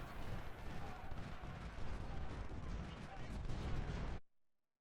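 Rumbling battlefield fire from Ultimate General: Civil War at Antietam, a dense continuous roar of artillery and musketry that cuts off abruptly near the end, with no voice over it.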